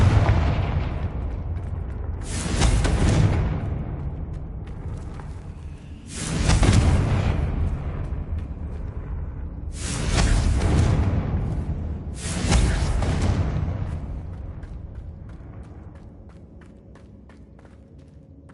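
Four heavy booming blasts from the Confringo fire spell in Hogwarts Legacy, each a deep explosion with a long rumbling decay, spaced a few seconds apart over a low game ambience, with no talking heard.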